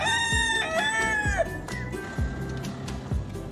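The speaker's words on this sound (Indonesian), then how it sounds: "di sini ada ayam jago teman-teman" A toy rooster in a toy animal-truck play scene lets out a loud, near cock-a-doodle-doo crow. Short chirps and clicks follow it, with no talking.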